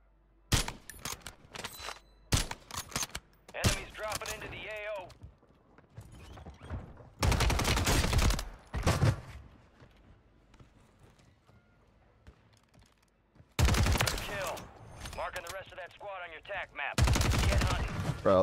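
Gunfire in Warzone 3, including a Superi 46 setup: sharp bursts of automatic fire and single loud shots alternate with quieter gaps, and a voice is briefly heard between them.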